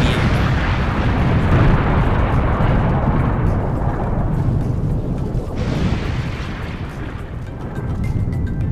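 A continuous deep roar rumbles loudly and steadily throughout, like a small eruption blasting, with no clear separate pops or breaks.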